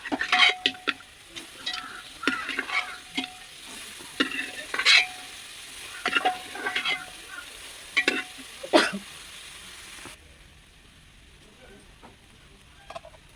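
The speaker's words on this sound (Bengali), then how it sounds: "এবার আমি সিদ্ধ করা মাংসটা প্রেশার থেকে এর মধ্যে দিয়ে নেড়ে চেড়ে আরেকটু কষিয়ে নেব।" Boiled mutton being stirred and fried in a spice masala: irregular bursts of spatula scraping and clatter against the pan over a low sizzle, close up, until the sound cuts off abruptly near the end.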